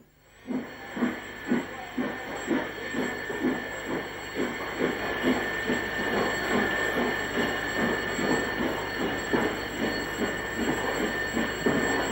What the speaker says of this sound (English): Richard, still engrossed, watches as the signalman pulls off the home signal for the other train to enter Rolvenden Station